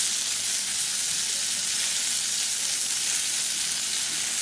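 Chicken for piccata fries in a pan over medium-high heat on a crooked cooktop, making a steady, close, continuous sizzle with no talking.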